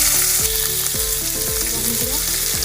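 Potatoes fry steadily in hot oil with dried red chili and nigella seeds, a dense continuous sizzle up close with soft stirring scrapes, in a village kitchen making a drumstick and poppy-seed dish.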